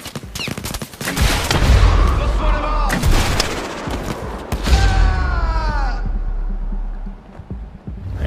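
Sustained gunfire in the Blood and Truth video game: rapid bursts and heavy shots crowd together for several seconds, loud and close, with someone talking over the shooting.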